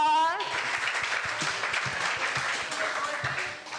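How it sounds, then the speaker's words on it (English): An audience at a community fundraising gathering claps in sustained applause after a brief spoken word, voices and cheers mixed in throughout. "Round of applause for everybody that's donated so far."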